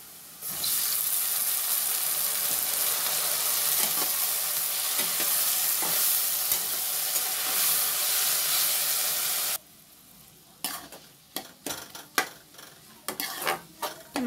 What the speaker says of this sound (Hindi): टमाटर को हम भूज लेंगे